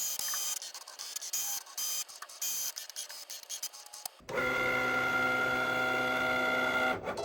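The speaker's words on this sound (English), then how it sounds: "it had no problem recognizing the lines, so now it's going to start cutting" A Cricut cutting machine works on a print-then-cut sheet, first with irregular whirring bursts as it reads the sheet, then a steady close motor hum with a tonal whine as cutting starts, and no voices.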